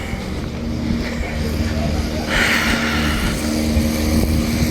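Jet skis running on a river during a summer outing, giving a steady engine drone at a moderate distance, mixed with wind noise and faint background voices.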